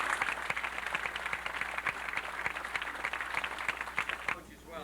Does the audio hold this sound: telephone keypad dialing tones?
no